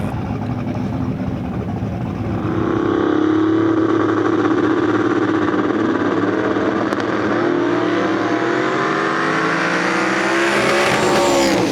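A drag race car launches at TX2K with a loud, roaring engine that rises and climbs in pitch as it accelerates, heard close and alone. The loud roar continues steadily for several seconds.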